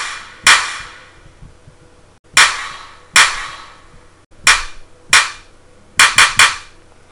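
Programmed drum hits from music production software, sharp punchy snare-like strikes in an irregular pattern, single hits spaced apart and then a quick triple burst near the end, each decaying quickly with no voices.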